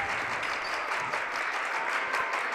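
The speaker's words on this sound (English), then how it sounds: "Student body here at North Clarion into it. With the hand clap going." A student crowd claps steadily and densely in a school gym during a girls' high school basketball quarterfinal, loud, close and sustained, with a commentator's voice faintly under it.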